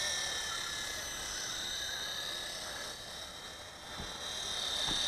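A WLtoys V915 Seeker RC scale helicopter flies outdoors in a light breeze, giving off a steady high-pitched rotor and motor whine that holds level and dips slightly toward the end.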